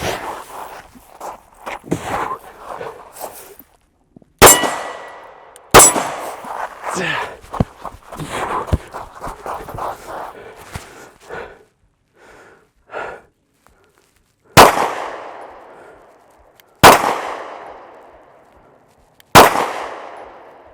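Sharp gunshots ring out in a shooting drill, each one ending in a metallic clang as it strikes a steel target, a bladed reduced silhouette. The loud single reports come a couple of seconds apart and mix with footsteps and brief talk.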